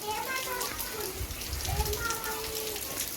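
Steady patter of rain on surfaces, with children's voices chattering underneath.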